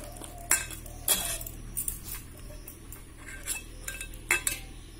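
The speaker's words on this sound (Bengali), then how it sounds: "এবারে দিয়ে দেওয়া হচ্ছে সর্ষের তেল, দিয়ে খুব ভালো করে মিক্সড করা হচ্ছে।" A spoon mixes hilsa fish with mustard paste and mustard oil in a metal dish, giving a few soft clinks and scrapes at a moderate distance over low background hum.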